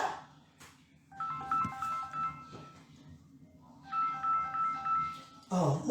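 A mobile phone ringtone plays a repeating melodic phrase in two bursts, clear and fairly loud over a low background hum, with brief talk at the start and a voice near the end.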